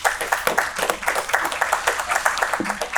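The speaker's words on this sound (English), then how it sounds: "let's give LaMonica a round of applause" A room full of people at a public transit meeting applauds, dense steady clapping close and loud for several seconds with no one speaking over it.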